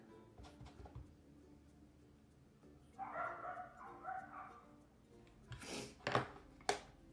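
Several dogs bark angrily at something outdoors, heard from inside a house: a stretch of whining, yelping barks in the middle, then a few sharp, loud barks near the end.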